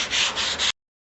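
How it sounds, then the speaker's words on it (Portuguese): Hand sanding of polyester body filler with 80-grit sandpaper during automotive body prep: a close, steady scratchy rasp in several connected strokes that lasts under a second and then stops. "com a lixa 80 aqui"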